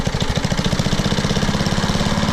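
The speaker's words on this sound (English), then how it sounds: "That engine runs good." A rusted-out lawn mower engine found at a beach trash pick in Emerald Isle, North Carolina runs steadily up close, its small engine chugging with a fast, even knocking pulse throughout.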